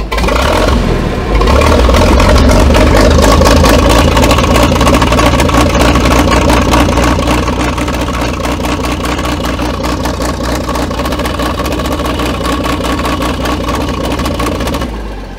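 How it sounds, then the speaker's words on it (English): A WWII Hetzer (Jagdpanzer 38) tank destroyer engine runs inside a museum, a loud, rough, throbbing rumble that surges at first and then settles into a steady, pulsing idle close by. "This is a fully operational running vehicle within the museum."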